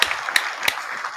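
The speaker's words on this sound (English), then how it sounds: "I'm going to go ahead and hit the round of applause first" Applause plays as a sound effect during a podcast, a brief burst of clapping at moderate volume with a couple of sharper claps standing out, cut short after about a second.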